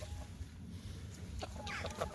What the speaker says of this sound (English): Here's a new chicken.